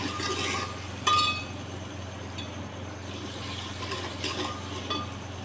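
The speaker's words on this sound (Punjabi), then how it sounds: "ਆਪਾਂ ਪਾਵਾਂਗੇ ਨਮਕ ਤੇ ਮਸਾਲਾ ਥੋੜਾ ਜਿਹਾ ਚੋਲਾ ਵਿੱਚ ਤੇ ਆਪਾਂ ਇਹਨੂੰ ਚੰਗੀ ਤਰ੍ਹਾਂ ਹਿਲਾ ਲਵਾਂਗੇ" Rice being stirred with salt and masala in a pot over a stove, steady scraping and sizzling with occasional sharp metallic clinks of the spoon against the pot, continuous and close, with no talk.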